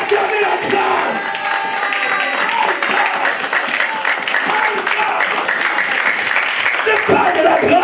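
A church congregation applauds and cheers, with dense continuous clapping mixed with voices and shouts. The sound stays loud and steady throughout.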